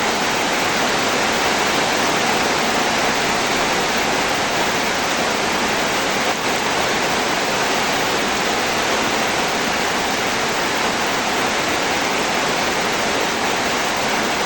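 Heavy rain falls in a continuous loud wash, a thick, steady hiss and roar that never lets up, with no voices or other sounds.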